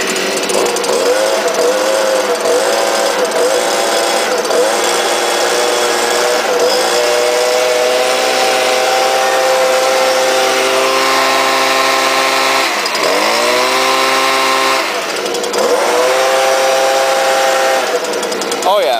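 Stihl BG 86 leaf blower engine idling after a clogged spark arrestor screen repair, a loud, steady, close two-stroke buzz that holds throughout with a couple of brief dips in pitch near the end.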